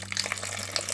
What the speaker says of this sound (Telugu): కొంచెం వాటర్ అయితే వేద్దామండి